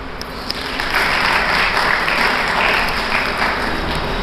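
An audience at an education and technical centre event gives steady, full applause, a dense wash of clapping that swells after a brief start and holds without talk.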